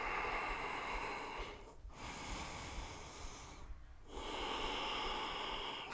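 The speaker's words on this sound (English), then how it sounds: "Let's take four more deep breaths." Deep, slow yoga breaths sound close and airy, with long inhales and exhales separated by brief quiet pauses and nothing else around them.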